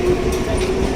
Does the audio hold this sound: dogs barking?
no